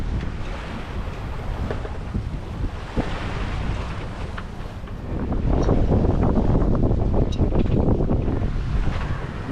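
Wind and waves offshore aboard a sailboat, a steady broadband rush of water and gusting wind across the microphone that swells louder in the second half, with no voices.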